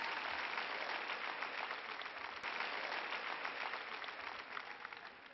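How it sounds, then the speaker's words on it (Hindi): Applause during a church sermon: a steady, even wash of clapping, moderately faint and continuous throughout, with no one speaking over it. "एक जन ताली बजावा थे"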